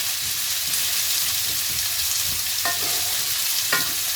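Onions frying in a pan for a chicken masala dry, with a steady close sizzle throughout and two brief scraping stirs near the end.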